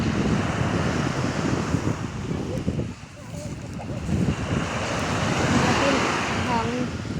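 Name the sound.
wind at the seaside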